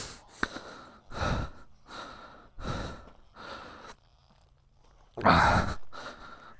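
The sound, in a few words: heavy breathing, out of breath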